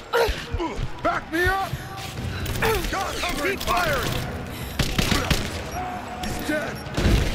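A firefight in Rise of the Tomb Raider brings bursts of gunfire with shouted voices over it, near and loud, with clattering impacts and a busy, chaotic mix.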